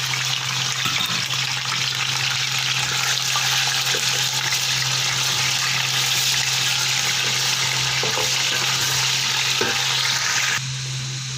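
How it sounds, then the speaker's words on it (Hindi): Chicken and onions fry in a pot for Hyderabadi biryani, giving a loud, steady sizzle and crackle throughout. The sound eases slightly near the end, and no one speaks. "कम से कम 4 मिनट हम इसको फ्राई करेंगे इसके अंदर, चिकन को अच्छी तरह से"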